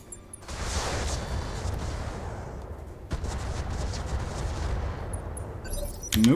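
Heavy weapon fire from a Bushwhacker in the BattleTech RogueTech mod thunders as rapid, dense booming bursts that run almost unbroken, with a sharp hit midway and a louder crack at the end.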